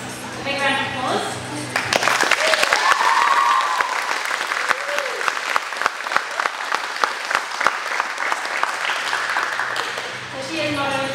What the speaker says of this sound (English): So I want everyone to give this amazing lady a big round of applause.